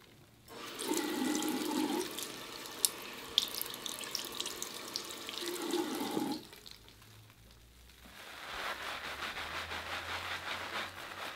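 Tap water runs steadily into a bathroom sink while an arm is wetted under it before lathering a raspberry milkshake soap; the flow is loud and even for several seconds, then cuts out, leaving quieter splashing and dripping.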